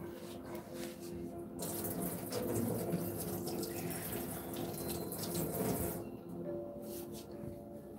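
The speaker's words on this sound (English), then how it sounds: "drain off this hot water" Steady running water pours and splashes for several seconds, a continuous gushing wash that drops away near the end, leaving a quieter trickle and faint hum.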